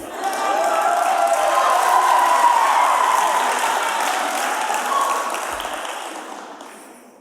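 Awards ceremony audience applauding and cheering, a broad steady wash of clapping from a crowd that swells early, holds for several seconds, then slowly fades out.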